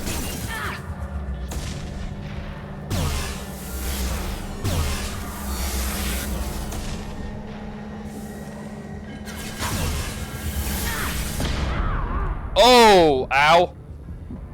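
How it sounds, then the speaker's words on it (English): A gunship in Mass Effect Legendary Edition passes overhead with a rising and falling whoosh near the end. Booms and impacts are heard earlier, and someone talks and exclaims over the action. "Gunship overhead!"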